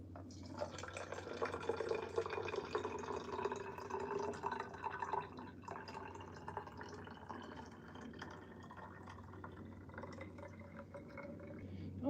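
Nectar pours into a new hummingbird feeder in a continuous, faint trickle and gurgle that slowly shifts as the container fills.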